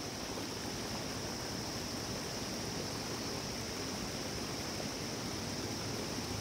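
A mountain stream on the Ruby Valley trek in Dhading, Nepal, a constant broadband rush of flowing water, even and unbroken, heard at moderate distance.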